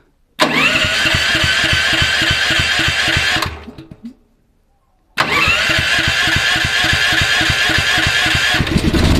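Electric start of a Champion CPG7500 7 kW gas-petrol generator: the engine catches at once and runs with a steady loud drone, cuts out briefly into silence, then restarts and keeps running close by.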